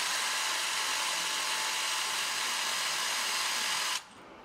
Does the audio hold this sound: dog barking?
no